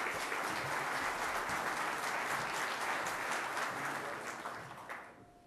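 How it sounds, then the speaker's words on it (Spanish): Loud, dense applause from an audience at a seminar held at the Universidad Nacional Autónoma de México, sustained for about five seconds and tapering off at the end. "Les ruego si me regalan un fuerte aplauso"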